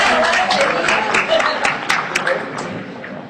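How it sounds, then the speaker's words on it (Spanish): Audience applause at a Mexican political event on electoral reform, dense, fairly loud clapping from a crowd mixed with voices, tapering slightly over a few seconds. "Pero un aplauso al gobierno."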